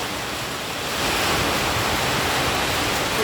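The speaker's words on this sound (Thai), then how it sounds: "ลมแรงมากเลย" Strong gusting wind during an evening storm roars as a loud, steady broadband rush that swells after the first second and holds, with no voices.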